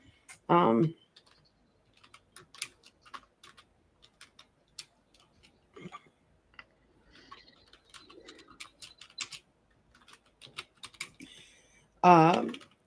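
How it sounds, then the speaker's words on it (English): Intermittent keystrokes tapped on a computer keyboard, quiet and close, in short uneven runs with pauses, broken by brief bursts of a voice at the start and end. "For Arlene, I'm going to type in comments."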